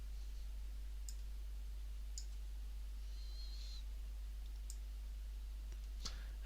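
A computer mouse clicking: five sharp, isolated clicks spaced about a second apart, close and distinct over a quiet steady hum.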